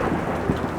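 Thunder sound effect in a narrated story, a dense, rumbling crash with rain-like hiss throughout, loud and continuous with a couple of heavier bursts, no voice over it.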